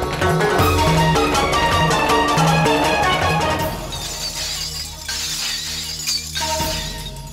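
A glass shatters within a loud, busy television game-show soundtrack, a dense burst of bright, crackling breakage over music and crowd noise, fading into a noisier wash toward the end.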